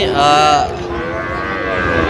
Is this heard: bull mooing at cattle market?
yes